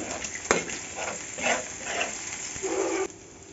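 A spatula stirs an egg frying in a pan, making close scraping strokes in uneven bursts over a light sizzle. A brief tonal squeak comes near the end. No one speaks.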